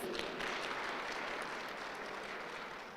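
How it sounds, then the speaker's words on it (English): An audience at a real estate roadshow claps steadily for about three seconds, a dense, moderately faint applause that fades slightly toward the end. "let them give a round of applause for that"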